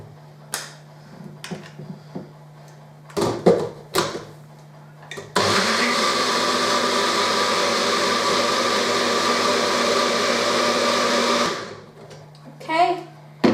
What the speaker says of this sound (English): I'm just going to put it on the blender just for a second and blitz that up